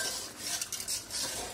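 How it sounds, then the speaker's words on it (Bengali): Chicken curry (bhuna) being stirred and fried in a pot, a brief close burst of soft scraping and spoon-against-metal clinks over a light sizzle. "সুন্দর করে ভুনা করতে হবে।"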